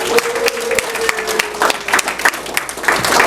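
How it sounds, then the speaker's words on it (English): Audience applause for the roast masters at the close of a Toastmasters roast night, a loud sustained patter of many hands with a few louder individual claps and faint voices mixed in. "Let's hear another round of applause for our roast masters tonight."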